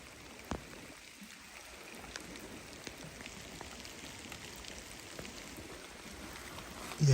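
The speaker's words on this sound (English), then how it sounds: "the rains have definitely picked up quite a bit" Heavy rain falls near a river with a strong current, a steady close hiss of drops punctuated by sharp individual drips and taps on nearby surfaces, heard alone without talk.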